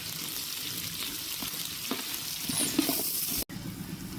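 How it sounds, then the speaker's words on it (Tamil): Onions sizzle in hot coconut oil with cinnamon for a chicken biryani, a close, continuous frying hiss with a few soft stirring scrapes and a brief dropout near the end. "தேங்காய் எண்ணெய் ஊற்றிக்கலாம். பட்டை வகை போட்டுக்கலாம். வெங்காயம் போட்டுக்கலாம்."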